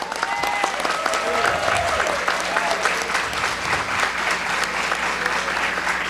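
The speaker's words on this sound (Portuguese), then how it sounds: "E eu acho fantástico que vocês aplaudam" Loud, sustained applause from an audience at a public-service workers' union rally in Minas Gerais, a dense steady wash of clapping lasting throughout with no pauses.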